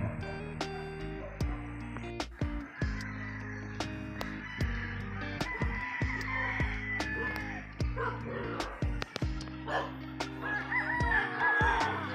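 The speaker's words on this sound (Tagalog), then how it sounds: "Yung tunog ng mga dahon, ibon, sarap pakinggan." Outdoors, a rooster crows repeatedly among chirping and calling birds, the crows loud and near with bird calls scattered through the background.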